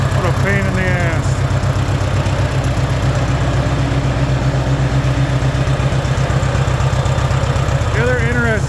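A Massey Ferguson MF 85 tractor engine, with worn liners pushing oil out of the spark plug holes, runs steadily at a low, even idle with a loud, continuous rumble throughout, while people talk over it near the start and end.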